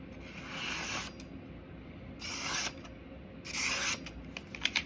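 A Binging with Babish brand kitchen knife is drawn across a sharpening stone in three separate rasping strokes, each about a second long, close and fairly quiet, with faint scrapes and clicks at the end.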